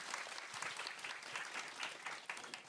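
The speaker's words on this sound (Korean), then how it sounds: "박수로 맞아주세요." Audience at a Korean panel discussion on youth marriage and dating breaks into steady, dense applause to welcome the next presenter, a continuous clatter of many hands heard from within the hall.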